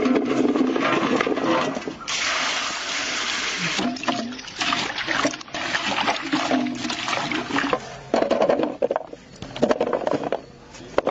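Garlic rinsed in water for homemade pickle, splashing and sloshing water in uneven bursts with pauses, close and fairly loud, with no speech.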